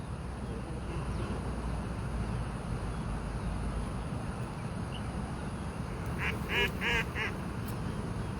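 Ducks by a river give a short burst of several quacks near the end, moderately distant, over steady low rumbling outdoor noise, with faint talk in the background.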